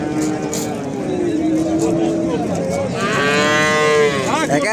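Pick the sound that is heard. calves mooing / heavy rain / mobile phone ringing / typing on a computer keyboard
calves mooing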